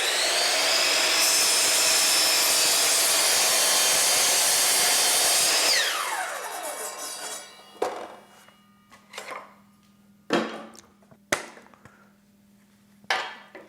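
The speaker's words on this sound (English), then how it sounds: "Now I'm going to cut this 35-degree angle and we'll make a miter." A miter saw cuts a 35-degree miter through wood casing: a loud, steady high-pitched whine for about six seconds, then the motor spins down. Sharp knocks and clatters follow as the material is handled.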